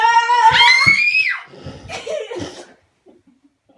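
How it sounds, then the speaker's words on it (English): An old man character shrieks in an 8th grade school play of The Tell-Tale Heart, one loud, high, wavering scream that falls away, followed by brief scuffling and murmuring before quiet. "The old man shrieked once, and only once."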